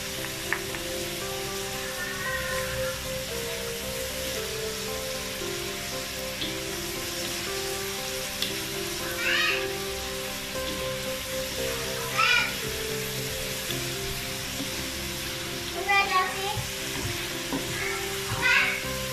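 Chicken topping for noodles fries in a pan after salty soy sauce goes in, a steady close sizzle with occasional stirring scrapes and spatula knocks, and faint voices in the background.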